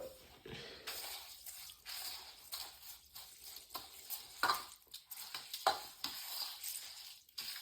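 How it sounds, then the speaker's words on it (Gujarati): Spiced water for a village-style khichdi comes to a rolling boil in a pot, a steady, fairly quiet bubbling and hiss with small pops and drips, uneven in level, with no voices. "મસાલો એકદમ ઉકળી ગયો છે"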